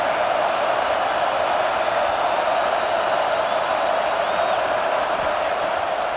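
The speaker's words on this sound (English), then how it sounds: "Hang on, Snoopy, the Buckeye crowd alive on 3rd down." Stadium crowd at Ohio State in College Football 26, a broad, steady roar of cheering on third down that holds at an even loudness throughout.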